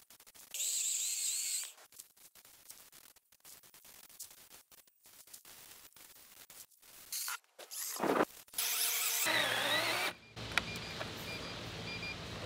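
A Greenworks Pro 80V 18-inch battery chainsaw whines in bursts, revving up and cutting a dead birch tree, then dropping away between cuts, with quieter handling noises in the gaps.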